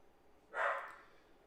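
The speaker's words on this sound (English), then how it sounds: "Dog's barking." One short, moderately loud bark from a dog nearby, a single woof standing alone over faint room noise.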